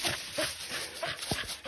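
A 14-month-old hunting dog pup whimpers in short, faint, high whines spread across a few seconds, with no speech over it.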